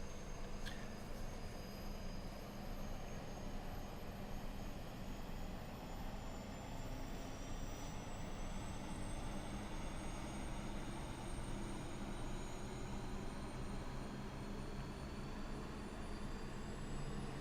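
Airbus A330neo engines in Microsoft Flight Simulator spool up from outside the aircraft, a faint, steady jet whine slowly rising in pitch over a broad rumbling roar that holds for a long stretch with no speech.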